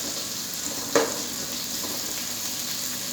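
Ginger dropped into a hot pan while cooking fresh clams, giving a steady close sizzle and frying hiss with one sharp clack near the start, no voices.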